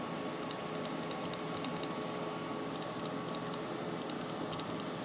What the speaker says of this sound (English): That's my right click for now.